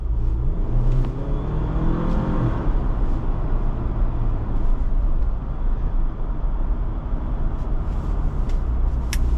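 A 2025 Jeep Wrangler Sahara 4xe plug-in hybrid accelerates hard from low speed to pass a tractor, a steady broadband engine and road roar with a rising whir early on, heard from inside the cabin.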